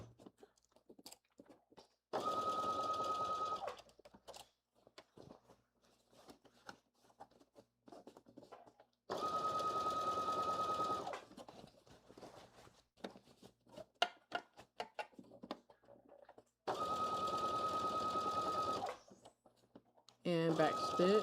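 A sewing machine back-stitching a sleeve onto a blazer, running in three separate steady whirring bursts of a couple of seconds each, with quieter handling noises between them.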